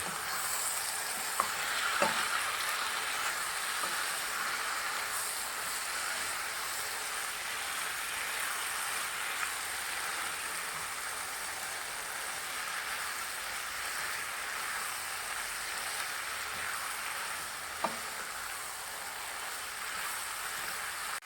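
Green chili and cilantro being mixed into Goan beef chilli fry, a soft continuous sizzle with occasional light clicks of a spoon against the pan, fairly faint and without speech.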